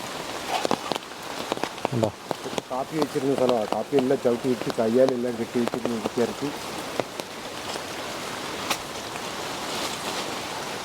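Steady rain falling on a former coffee plantation that wild elephants have trampled, with an even, close patter of drops on the surface. Someone talks over it for most of the time.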